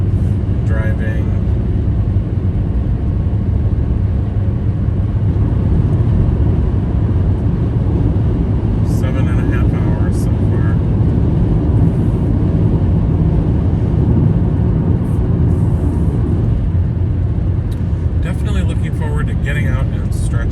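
Steady low road rumble and engine drone fill the inside of a car cruising on a road trip from Chicago to Gatlinburg, Tennessee, continuous and loud throughout, with a person's voice heard at moments.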